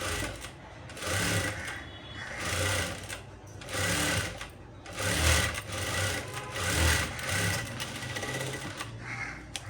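A sewing machine stitches a blouse in steady bursts of close mechanical whirring that stop and restart several times, with a faint voice briefly in the background.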